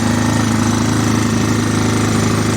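An inverter generator converted to run on methane (CNG) hums under a roughly 2 kW household load, producing a loud, steady, rapid mechanical chugging with a constant low drone and no pauses.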